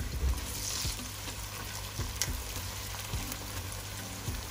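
Ginger, garlic and Scotch bonnet sizzle steadily in a hot pan for a bean stew, a continuous close frying hiss with occasional stirring clicks and no talk.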